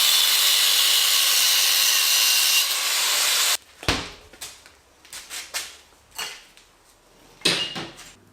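A cutting tool grinds continuously and harshly for about three and a half seconds on protruding bolts of a bicycle motor mount, then gives way to a series of short scraping, rubbing strokes.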